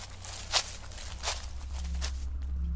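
Footsteps crunch through dry leaves in the woods at night, a few faint, irregular steps set against a low steady rumble.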